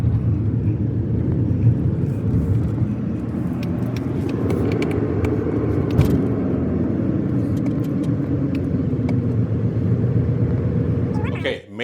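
A Chevrolet Silverado pickup truck drives along with a steady, loud engine and road rumble heard from inside the cab, continuous throughout before dropping off at the very end.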